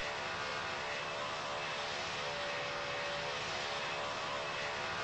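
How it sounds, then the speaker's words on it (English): British Airways airliner taking off from the runway, a steady loud engine roar heard from inside the cabin, continuous and even with no talking. "we took off on the runway"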